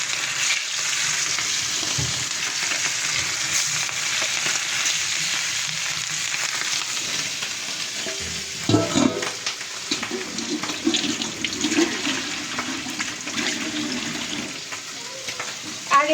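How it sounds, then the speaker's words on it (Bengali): Hilsa fish frying in oil in a pan gives a loud, continuous sizzle that runs throughout, with a few clatters near the middle and occasional faint voices. "এখন এই তো আমি ইলিশ মাছটাকে সুন্দর করে ভেজে নিচ্ছি এখন।"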